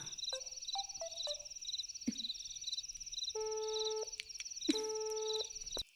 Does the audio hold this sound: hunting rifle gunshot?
no